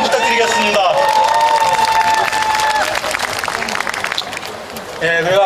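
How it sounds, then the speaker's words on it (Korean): An audience at the opening ceremony of the 10th Icheon Ginseng Festival applauds and cheers in a broad, sustained outdoor roar of clapping, while an amplified voice carries over the top early on. "큰 박수 한번 부탁드리겠습니다"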